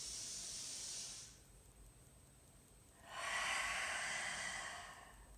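Slow, deep breaths during a yoga session for back pain: one long airy exhale fades out, a pause, then another full breathy inhale or exhale swells and trails off, close and soft with no talking.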